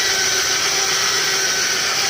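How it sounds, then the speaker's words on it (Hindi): Machine running sandpaper against a motorcycle cylinder block bore to clean and smooth it after cutting; a steady, loud, high-pitched whirring grind held without pause, no voices. "रेगमाल और मशीन द्वारा सिलेंडर के बोर को साफ कर रहे हैं, थोड़ा चिकना कर रहे हैं।"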